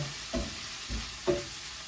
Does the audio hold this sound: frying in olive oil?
yes